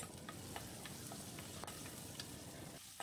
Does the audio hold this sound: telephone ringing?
no